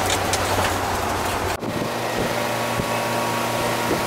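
A car's air conditioning system runs with a steady broadband whir and fan hum while being checked for charge. The sound is continuous and close, with a brief dip partway through and no talk.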